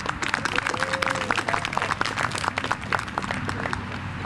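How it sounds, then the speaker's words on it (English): A seated audience at a company retirement event gives a sustained round of applause, dense clapping from many hands at moderate distance, steady throughout without speech. "we'd like to just have a round of applause for her"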